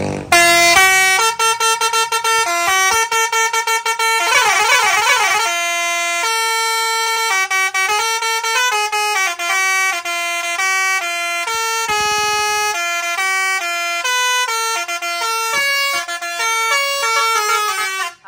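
A Basuri musical horn fitted on a vehicle in Bongabon, Nueva Ecija, blares a loud melodic sequence of sustained and stepped tones, including a warbling passage, played close and continuously for the full stretch.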